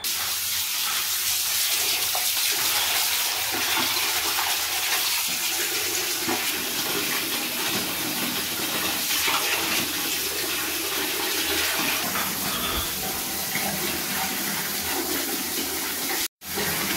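Cut katla fish being rinsed under a running kitchen tap, a steady close rush of water splashing continuously for the whole stretch, cutting off briefly near the end.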